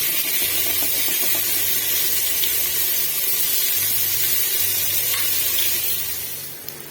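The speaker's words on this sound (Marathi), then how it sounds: "कांदा असा भाजतोय आपला फटाफट." Onion frying on a hot tawa for paneer tawa pulao, a steady close sizzle with bright hiss that carries on evenly, alongside a low intermittent hum and soft stirring, with no talking.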